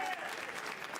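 A crowd at a Yu-Gi-Oh YCS tournament applauds steadily, a dense and even wash of clapping that fills the whole moment at moderate volume.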